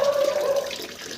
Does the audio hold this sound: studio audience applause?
no